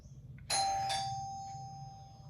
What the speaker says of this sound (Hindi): घंटी बज गई है, मेरा सेशन खत्म होता है।